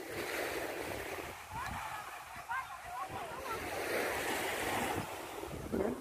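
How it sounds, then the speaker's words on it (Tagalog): Steady roar of surf and breaking waves at Gold Coast Beach, Tuen Mun, with wind buffeting the microphone and people talking over it throughout. "Yung alon, malakas yung alon."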